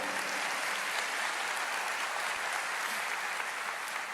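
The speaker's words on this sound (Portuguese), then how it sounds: "pode aplaudir" Church congregation applauding during a sermon, a dense, steady wash of clapping that fills the space evenly for several seconds without pause.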